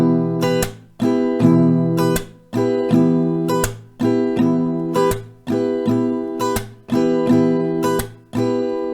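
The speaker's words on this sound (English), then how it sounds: "one strumming round is down, up, clap, down" An acoustic guitar strums chords in a repeating down, up, clap, down pattern, with a sharp clap marking each cycle, loud and close.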